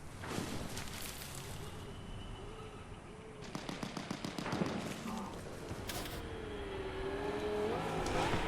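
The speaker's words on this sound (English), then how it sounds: "Another car coming by." A vehicle driving past in a Fortnite match, a steady engine drone rising and fading, with rattling bursts of gunfire partway through and a faint background voice.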